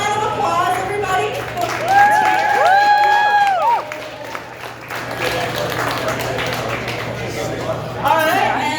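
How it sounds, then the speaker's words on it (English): Audience at a hypnosis show breaks into clapping and cheering, a crowd of applause with shouts and whoops that swells and fades, while voices call out over it. "So let's give a round of applause, everybody."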